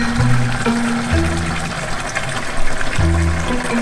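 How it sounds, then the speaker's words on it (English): Water runs from a spigot through a hose and RV water filter in a steady rushing flow, with intermittent low tonal hums from a pump or pipes beneath it. "turn on the water and hit start."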